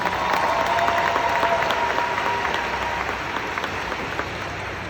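An audience at a motivational conference claps in sustained applause, a dense, even patter of many hands that fades slightly toward the end, with some faint crowd noise.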